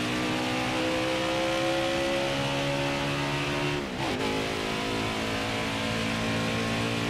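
A NASCAR race car engine in the video game NASCAR Heat 5 drones steadily and close, with a brief dip in its tone partway through before it settles back to an even hum. No voices are heard.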